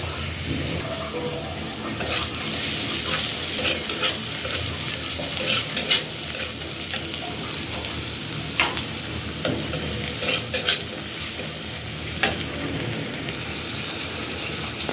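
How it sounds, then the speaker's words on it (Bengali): Onion sizzling in oil while being stirred in a home kitchen pan, a continuous frying hiss punctuated by repeated spatula scrapes and clatters, close and moderately loud, without speech. "পেঁয়াজটা একটু ভাজা ভাজা হোক"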